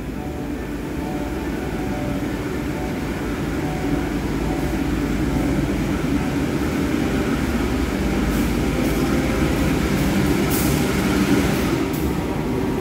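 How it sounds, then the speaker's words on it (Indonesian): The Mutiara Timur passenger train, running from Ketapang to Yogyakarta, rumbles past in a steady, loud, continuous roar of wheels and carriages that holds throughout with no voices. "Ini adalah kereta api Mutiara Timur dari stasiun Ketapang, tujuan akhir stasiun Yogyakarta."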